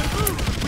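Gunfire in the video game Call of Duty Ghosts: a dense, loud burst of shots blending into a continuous clattering barrage for under a second.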